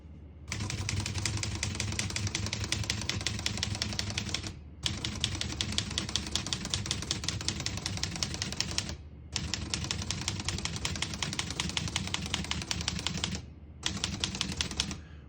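Rapid mechanical clacking of a 1964 Olivetti Lettera 32 manual portable typewriter, keys striking in quick bursts with brief pauses between runs, close and steady.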